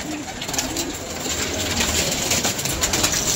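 Pet pigeons cooing close by, soft low throaty calls repeating over a constant outdoor background hiss.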